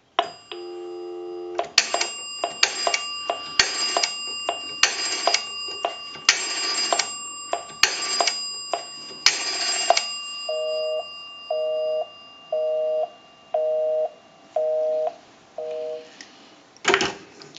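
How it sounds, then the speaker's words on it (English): Repaired and converted Automatic Electric three-slot payphone giving a busy signal: a steady series of six evenly spaced, moderately loud beeps follows earlier dial and tone sounds, with no talk. "We can call my number, and it'll be busy."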